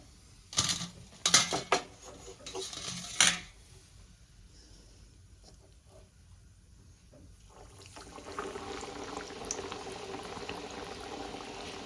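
Gujia deep-frying in hot oil one at a time: a few sharp clattering knocks near the start, then a soft, continuous bubbling of oil that swells slightly toward the end, quiet and close, with no voices.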